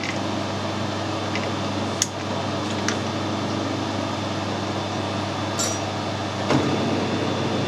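A lathe motor hums steadily at a low level, a brass piece held in its chuck, with a few faint metallic clinks and taps scattered over the continuous drone.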